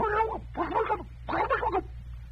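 A voice imitates a turkey's gobble, three warbling gobble-like bursts spaced evenly apart, close and fairly loud over a low background hum.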